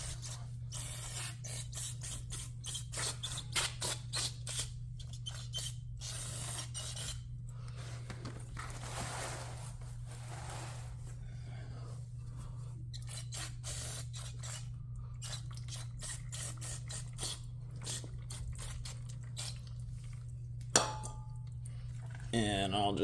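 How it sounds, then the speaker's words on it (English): Several short hissing spray bursts of brake and parts cleaner on a KTM 300 XC-W dirt bike, scattered among scraping handling noises over a steady low hum, with a louder clank near the end. "we'll just clean up our work area here with some brake and parts cleaner."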